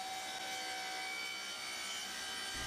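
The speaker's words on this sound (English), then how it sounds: "On the saw again, cutting the lid off." Saw blade cutting the wooden lid off a handmade tea box, a continuous close, loud whirring cut through timber holding steady for a few seconds, with no talk.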